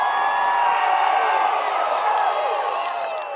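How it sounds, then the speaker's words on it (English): A large crowd at a Bernie Sanders rally in Austin roars steadily, a dense wash of cheering, whooping and shouting that stays loud throughout and fades slightly toward the end. "It is a loud crowd."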